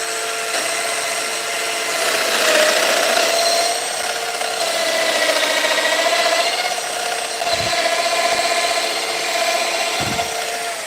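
A Festool Domino 700XL joiner cutting into wooden end grain for stair building: a loud, continuous high whine that swells and strains in waves, with a couple of low thumps near the end.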